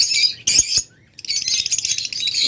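Lovebirds squawk and chirp close by in loud bursts, with a short silence near the middle before the chattering resumes steadily.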